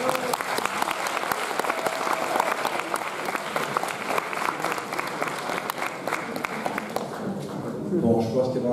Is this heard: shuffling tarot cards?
no